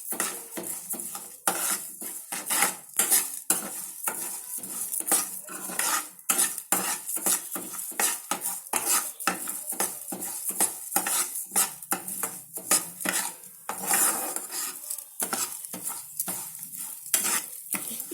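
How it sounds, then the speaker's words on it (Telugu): Moong dal (split yellow lentils) frying in ghee, stirred steadily with a metal spoon that scrapes and clinks against the pan, over a constant close sizzle throughout, with no talking. "నెయ్యి వేసుకున్న తర్వాత మనకి పెసరపప్పు వేసుకొని ఫ్రై చేసుకుందాం"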